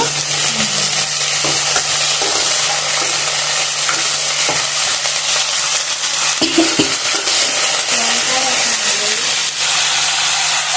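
Ridge gourd peels fry in a pan for chutney, giving a loud, continuous hissing sizzle with occasional scrapes and stirring clatter, close up and steady.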